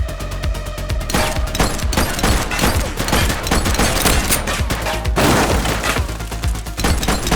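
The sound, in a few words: gunfire in The Precinct video game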